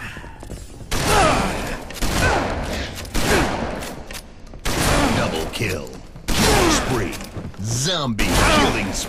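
Shotgun blasts ring out in a video game in repeated heavy bursts of gunfire with thuds and whooshes between them, loud and close, while a voice speaks over the action.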